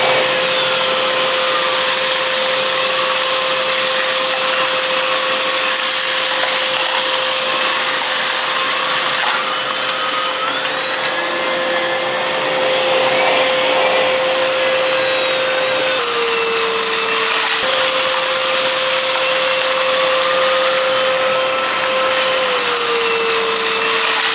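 A Philips 2000 Series XD2152 corded vacuum cleaner with a 2000-watt motor runs on its own, giving a loud, steady whirring drone with a constant whine that dips slightly in pitch a couple of times.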